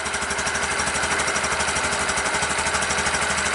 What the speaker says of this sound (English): I can definitely hear a little rattle. It almost sounds timing cover or timing chain.